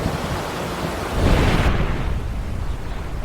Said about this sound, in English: it's not a story if thunder doesn't strike